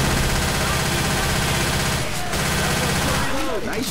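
Gunfire in the co-op zombie shooter Left 4 Dead 2, sharp shots blending into a dense, continuous wash of game noise and chaos, loud throughout with a brief dip midway.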